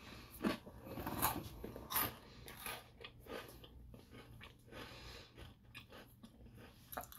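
Crunching bites into a light, buttery coffee biscuit, with several sharp crisp snaps close up followed by softer, steady chewing and mastication at moderate volume with no talking.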